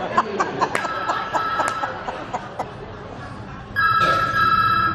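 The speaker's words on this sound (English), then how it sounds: "you get interrupted by a phone that rings" During a stage musical performance, a telephone rings with bright repeated trills over a busy, hissy room with audience murmur. A louder, steadier ring bursts in near the end.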